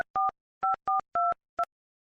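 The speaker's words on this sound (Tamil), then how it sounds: "ஃபோன் பண்ணி பார்ப்போம்." Touch-tone keypad beeps sound as a call is placed on a phone: five short, clean two-tone presses come in an uneven rhythm, then silence.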